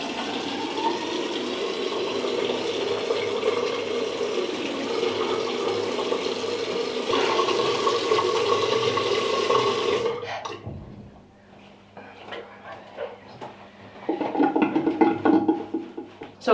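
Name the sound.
running water from tap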